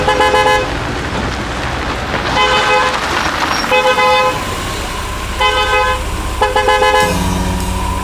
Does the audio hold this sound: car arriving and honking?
yes